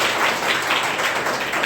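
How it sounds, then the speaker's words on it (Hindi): Steady, close applause from a school classroom quiz audience fills the short moment, a dense, even wash of many hands clapping with no voices over it. "तालियां होनी चाहिए एक बार।"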